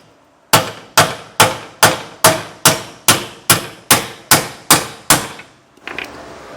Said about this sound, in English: I'm going to start hammering it in.